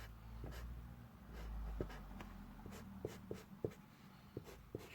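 A felt-tip pen scratches and shades on paper during an Arabic calligraphy lesson, making quiet, close strokes with small taps, faint against a low background hum.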